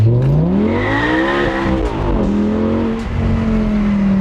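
The high-revving V10 engine of an Audi R8 V10 GT Spyder climbs steadily in pitch through the gears, loud and close, with a smooth continuous howl and no talking.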